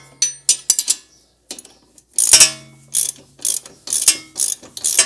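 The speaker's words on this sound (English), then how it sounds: "we're going to torque it to 115 foot-pounds." A ratcheting wrench tightens a shock bolt on a 2020–2023 Subaru Outback, making sharp, close clicking bursts in short strokes with brief pauses and a metallic clink between them.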